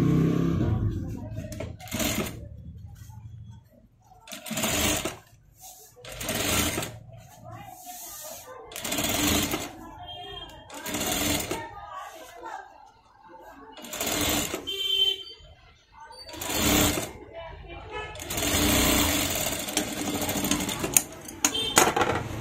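Sewing machine stitching the front and back parts of a garment together in repeated bursts of rapid whirring, alternating with brief pauses and speech between runs.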